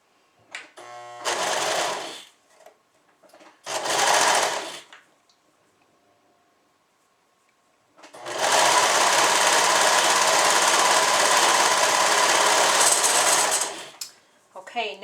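A serger stitches the two long side seams of a suit. It runs close and loud in three bursts: two short runs and then one steady run of about six seconds, with near-silent pauses between them.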